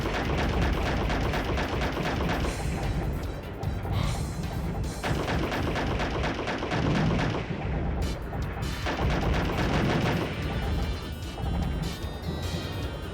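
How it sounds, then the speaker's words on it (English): Video game gunfire rattles nonstop in dense, heavy bursts, with booming impacts and crashing hits piling on top of each other at close range and high volume. "I think it's just these guys shooting"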